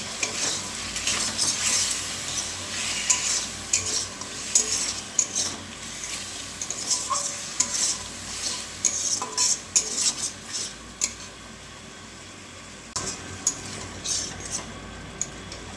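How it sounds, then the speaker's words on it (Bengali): Spice masala with salt and turmeric is stir-fried in a pan, utensil scrapes and clinks ticking irregularly over a soft sizzle, quieter toward the end. "মশলাটাকে ভালো করে একটু এখন একবারে কষিয়ে নিতে হবে।"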